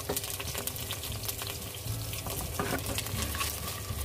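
Capsicum goes into hot oil with garlic and sizzles loudly and steadily, a dense, close frying hiss that holds for several seconds with no one speaking.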